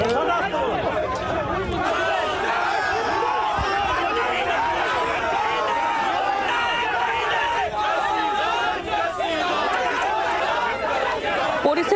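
Outside a government office during an election nomination, a dense crowd of party supporters shouts rival slogans, a loud, continuous roar of overlapping voices with no break.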